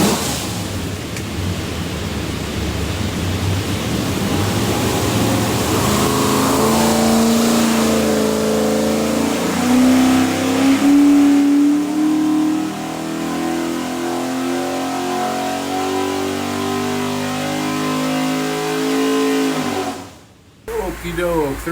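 A 427ci Windsor V8, stacked and blacked with a roller cam and custom oil pan, revs hard on a dyno, rising steadily in a long loud pull before cutting off sharply near the end.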